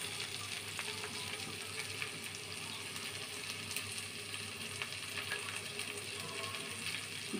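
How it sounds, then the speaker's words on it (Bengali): Spice paste of salt, turmeric and chili powder fries in a pan for small-fish chochchori, giving a steady, fairly quiet sizzle throughout with soft scraping as it is stirred. "দিয়ে আমি ভালো করে নেড়ে চেড়ে পেস্টটা ভেজে নিব"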